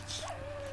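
Minecraft dog dying in the video game, a brief faint whimper over steady background noise, with no talk.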